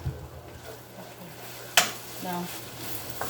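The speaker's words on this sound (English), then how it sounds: "frying a little bit." Food sizzles softly in a pan, a low steady crackle, with a sharp clack partway through and a brief spoken word.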